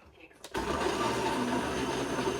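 A kitchen blender starts up abruptly after a brief quiet moment, then whirs loudly and steadily as it chops okra, with the motor's drone holding a constant pitch to the end.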